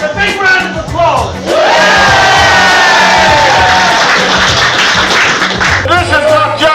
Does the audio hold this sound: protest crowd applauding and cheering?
yes